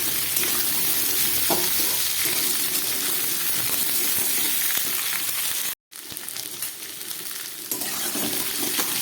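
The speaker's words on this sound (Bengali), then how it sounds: "ফোড়নটা হয়ে গেছে, আমি সবজিগুলোকে ভেজে নিই।" Vegetables fry in a pan after a tempering of five spices and green chillies, giving a steady close sizzle with occasional stirring scrapes and a momentary cut partway through.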